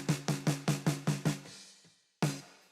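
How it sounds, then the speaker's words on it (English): A snare drum picked up by a bottom microphone, struck seven times in a quick even rhythm with bright rattling snare wires, then a pause and one more close, punchy hit. "my snare, I have a snare up, snare bottom. Sounds like this."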